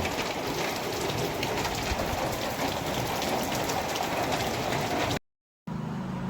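Steady heavy rain pours down, a dense continuous hiss close by, cutting out briefly near the end before resuming.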